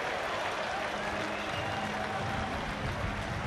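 A cricket crowd at a T20 Blast quarterfinal between Kent and Lancashire applauds a boundary, a steady wash of distant clapping and crowd noise held at low level throughout.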